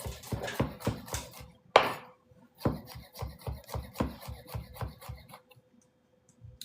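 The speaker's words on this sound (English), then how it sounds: "And then we'll cut some up for the stir fry as well." Knife chopping cauliflower on a cutting board for a stir fry, a quick run of close, crisp cuts, a pause, then another steady series of chops fading out.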